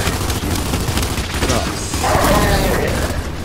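Drop shot weapon firing in the video game Gears 5, heavy booming gunfire and explosive blasts in a dense, continuous barrage with a swelling crash near the end, loud and close.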